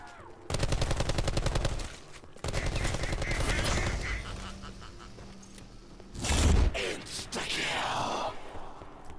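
Rapid bursts of machine gun fire from a video game, loud and dense in two sustained volleys near the start, followed by a heavier blast and scattered game sounds.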